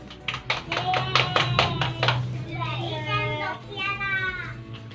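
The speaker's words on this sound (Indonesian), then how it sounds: "Selamat untuk kalian, tepuk tangan." Schoolchildren in a classroom clap a quick burst of rhythmic, distinct hand claps up close, then the clapping gives way to excited children's voices chattering.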